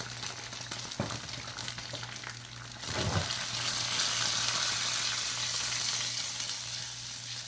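Chilli garlic chicken simmers in a pan of sauce made with ketchup and vinegar, bubbling and sizzling steadily. A couple of utensil knocks come early, then the frying grows fuller and louder.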